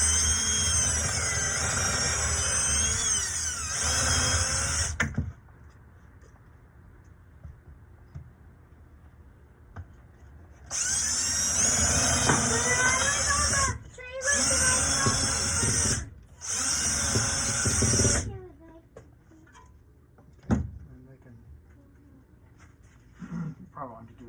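A power drill drilling wood for a birdhouse whines loudly for several seconds, stops, then runs again in three short bursts with pauses between, close by.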